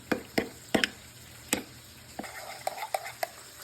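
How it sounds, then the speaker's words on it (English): A spoon stirs lemon juice into mayonnaise in a bowl, making a run of sharp, irregular clinks and scrapes against the dish, close and fairly loud with quiet gaps between strokes. "Let's go ahead and get all that stirred together to make our special Popeye's mayonnaise."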